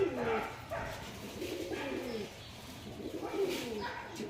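Pet pigeons coo close by in a series of soft, rolling, repeated calls that rise and fall over a few seconds.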